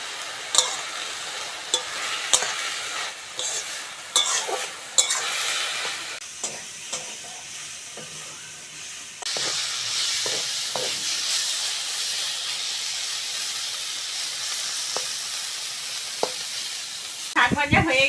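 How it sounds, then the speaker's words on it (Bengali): Saag greens fry and sizzle in a pan while a utensil scrapes and stirs in irregular knocks; the hiss grows louder and steadier midway, close and without talk. "শাক ভাজা হয়ে গেছে, নামিয়ে নেব।"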